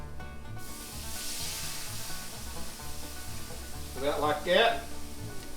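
Milk hitting a smoking-hot cast iron skillet with sausage drippings, a soft frying hiss that swells into a louder burst of sizzle near the end, while a person speaks briefly over it.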